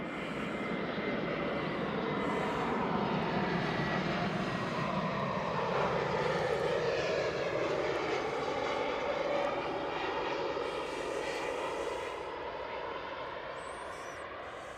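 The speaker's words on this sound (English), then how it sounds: "We have an ATR on its way out. You'll increasingly hear the drone in a minute." An ATR turboprop airliner departing Edinburgh Airport gives a loud, broad engine drone that builds and sweeps past, holding steady before slowly fading as the aircraft moves away.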